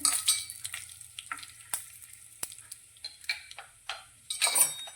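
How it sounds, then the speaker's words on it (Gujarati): Raw peanuts and asafoetida sautéing in a pan, heard as close, soft sizzling with intermittent scrapes and clicks of a spoon stirring, quiet overall and without speech. "સિંગના દાણાને આપણે થોડા સાતરીશું"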